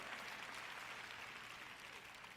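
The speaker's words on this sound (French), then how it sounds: "Vous applaudissez tous" Audience applause at a French-language sermon, a brief, dense patter of clapping that stays faint and distant for its whole short length.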